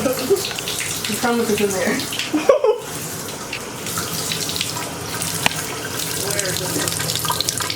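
Water runs steadily from a kitchen faucet for hand washing, a loud close rush that continues throughout while people talk over it.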